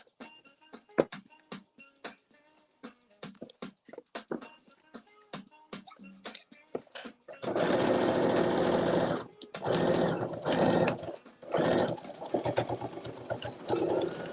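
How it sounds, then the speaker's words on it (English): A sewing machine stitches jeans pocket seams, first in quick separate clicks and short bursts, then in loud sustained whirring runs with brief pauses between them, close to the listener and with no talking. "And you want to back stitch a couple times right at that stress point."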